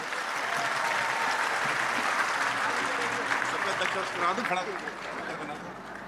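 A large crowd at a Vyasa Puja festival applauds continuously, a dense, even wash of clapping that holds steady throughout with little variation.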